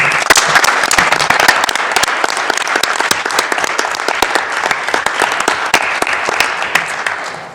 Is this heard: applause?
yes